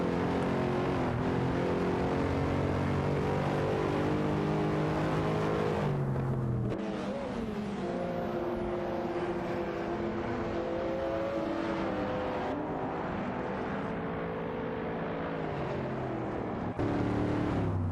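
Race car engines in an AI-driven racing game drone and rev continuously, with shifting pitch as cars such as a Mercedes and a Honda Civic Type R battle closely, loud and sustained without talk.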